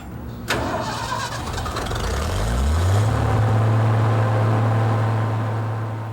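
A start cart engine spins up and runs beside a Cold War jet fighter, its roar swelling to a loud, steady whine with a rising then sustained low drone, close and alone without talk.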